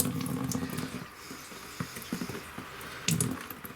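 Tap water runs into a sink and fills it, a steady rushing splash with a few louder bursts and clunks, heard alone without talk.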